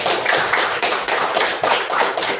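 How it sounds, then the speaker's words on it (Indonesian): A classroom of students claps together for a classmate in a quick, rhythmic burst of applause that stays steady and fairly loud throughout. "Tepuk tangan dulu untuk Yanti."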